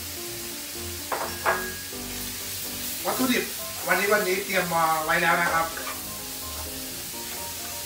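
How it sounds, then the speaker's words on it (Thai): Bacon sizzles and crackles in a hot pan for carbonara, with a few bursts of frying and stirring that swell in the middle, while someone talks over it. "เริ่มจากเราใส่เบคอน เพราะว่าตอนนี้กระทะร้อนแล้ว"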